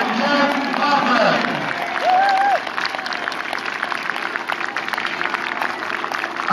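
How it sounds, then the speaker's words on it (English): A crowd at the Welshpool air show cheers and applauds loudly for a parachute display team landing, with clapping and whoops under an announcer's voice that fades into softer lingering applause. "Let's give John Parker a massive cheer for both of them"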